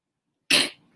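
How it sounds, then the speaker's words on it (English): A single sharp, close sneeze bursts out of silence, followed by a short fading breath and a faint tail. "Sorry, I had to sneeze."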